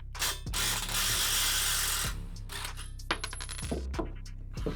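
A ratchet wrench clicks rapidly while removing a nut during assembly of a Rascal Lite mini bike kit, in close, bursty runs of metallic ratcheting separated by brief pauses.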